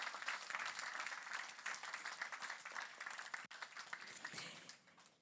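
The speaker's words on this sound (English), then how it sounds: "Let's give a big round of applause." A banquet audience at a charity fundraiser applauds, a dense sustained wash of many hands clapping that holds steady before slowly tapering off.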